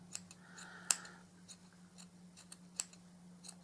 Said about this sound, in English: So I'm just going to trim him off a little bit.